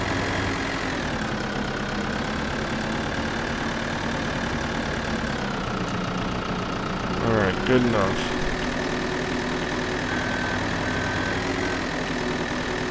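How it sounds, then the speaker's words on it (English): A farm tractor engine drones steadily at high idle in Farming Simulator 2013, a constant mid-pitched hum with a brief rise partway through, while someone speaks briefly over it. "There's that high idling."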